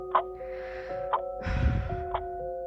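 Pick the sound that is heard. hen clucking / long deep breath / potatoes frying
long deep breath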